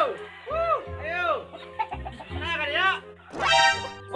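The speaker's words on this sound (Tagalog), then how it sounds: "Kaam lagi daghang manok ni Rudy, ay?" Chickens cluck loudly and close in bursts, with a rooster crowing near the end, as people's voices mix in among the birds.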